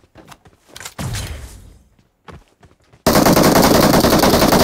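Gunfire in the mobile game PUBG Mobile: a few sharp shots, then a long sustained burst of automatic fire that fills the end, loud and close with no talking over it.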